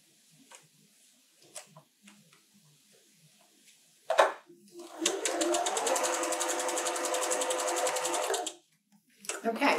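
Sewing machine stitching quilt pieces for a churn dash quilt square, a steady close whirring run of about four seconds with a sharp start, preceded by faint handling noises and followed by a brief restart.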